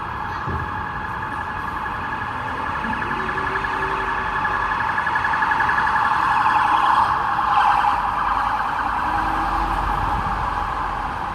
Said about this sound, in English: Some police cars running.